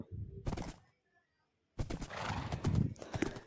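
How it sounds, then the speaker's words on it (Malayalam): A horse in a video game whinnies loudly and clip-clops along, a burst of hooves and neighing, then a brief silence before louder galloping and whinnying resume, with a voice talking faintly underneath. "ഒരു കുതിര തന്നെയായിട്ട് എനിക്ക് കിട്ടിപ്പോയി."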